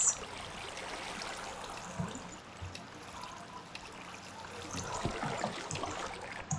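A waterfall in the Minecraft modpack Blightfall keeps up a steady trickling, splashing wash of water, moderately close, with small irregular bursts and no speech.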